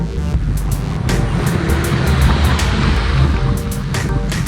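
Cars passing close by on a rural road near Bedias, Texas during a group bike ride, a loud, continuous rushing roar of tyres and engines mixed with wind buffeting.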